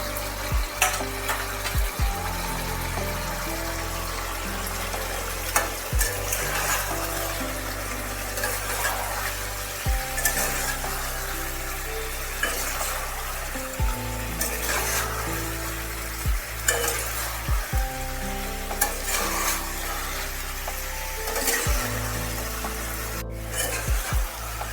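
Young jackfruit sizzles and fries in goat fat while being stirred, a steady crackling hiss broken by regular scraping strokes of a spoon against the pan, close and with no talk.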